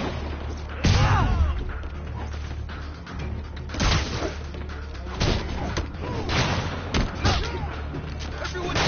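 Bursts of gunfire and thudding impacts in the Marvel's Spider-Man video game hit repeatedly amid combat noise and score, with a voice speaking over the action.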